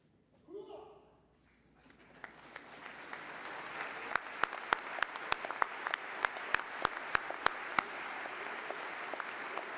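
At a university commencement, an audience applauds a newly commissioned army second lieutenant: a voice speaks briefly, then the clapping builds and holds, with a few sharp, close hand claps standing out above the steady crowd applause.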